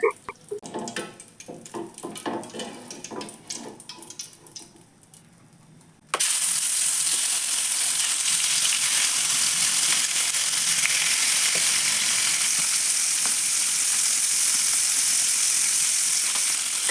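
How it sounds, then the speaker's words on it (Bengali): Fish coated in salt and turmeric frying in oil in a wok: a few seconds of quieter kitchen clatter, then a loud, steady, close hiss and crackle of sizzling that continues to the end. "এখন হচ্ছে লবণ আর হলুদ গুঁড়ো দিয়ে মাছগুলো মাখিয়ে নিব ভাজার জন্য"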